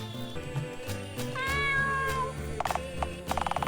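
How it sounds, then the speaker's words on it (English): A cat meows in the video game Dialtown, a short, clear mewing cry over a sustained musical backdrop, followed by a few sharp clicks. "There's even a cat inside the pyramid."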